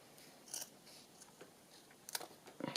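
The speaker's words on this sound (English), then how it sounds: "how far up should I cut?" Paper snipped with scissors for a handmade journal pocket, a few faint, sparse cuts close by in a quiet room, with a slightly louder cluster of snips toward the end.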